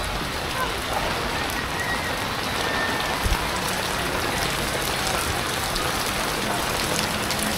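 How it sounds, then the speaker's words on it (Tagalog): Heavy monsoon rain pours steadily during flooding in Tondo, Manila, with a dense, constant hiss of drops drumming on surfaces, close and loud throughout. "Lumalakas na yung ulan, no?"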